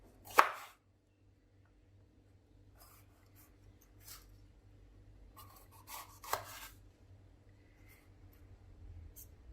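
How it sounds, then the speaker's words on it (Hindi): A knife cuts half an onion into cubes on a board, producing a few sharp, isolated chops spaced seconds apart with faint scraping between them in a quiet kitchen. "इसको हम क्यूब्स में कट करेंगे।"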